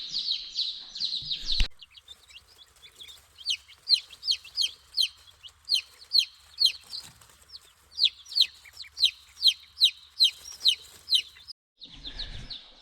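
Small chicks on a farm, kept alongside ducks, give a long run of bright, high chirps in quick rhythmic bursts, fairly close and clear, with a short pause partway through and a brief thump near the start.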